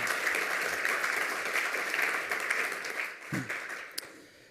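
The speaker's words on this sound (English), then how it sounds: "Give him a round of applause." A room full of people at the 27c3 conference lightning talks applauds steadily, the clapping thinning slightly toward the end, with a brief voice or thump near the close.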